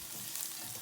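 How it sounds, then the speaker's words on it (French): Onions sauté in a pan for a cream pasta dish, giving a soft, continuous close sizzle and crackle at low volume. "je suis en train de sauter mes oignons"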